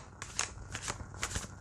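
A Santa Muerte tarot deck is shuffled by hand, a quick run of soft papery riffles and flicks repeating several times, close and quiet with no talk.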